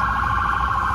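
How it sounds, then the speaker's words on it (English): Emergency siren wailing steadily, fairly loud and continuous with no talk over it. "sirens going on."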